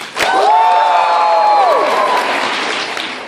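Applause and cheering ring out from the audience at a New York Comic Con 2014 panel for Telltale's The Walking Dead. A sudden, steady burst of clapping with high whoops rides on top, easing slightly toward the close.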